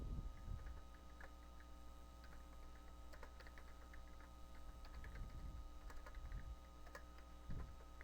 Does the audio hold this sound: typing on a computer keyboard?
yes